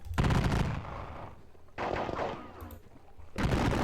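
Three loud rolling musket volleys sound in a Napoleonic Battles wargame set in the Peninsular War, each a dense crackling burst lasting about a second or more, close and alone.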